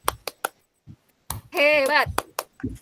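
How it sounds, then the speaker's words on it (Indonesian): A classroom doing a short patterned clapping chant, with sharp separate claps in a rhythmic sequence broken by a brief sung or chanted voice in the middle. "Ibu ada tepuk buat Ainunung. Tepuk hebat."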